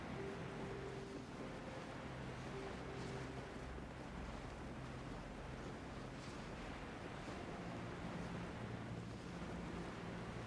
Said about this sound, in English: That waterfall looks pretty cool from back here.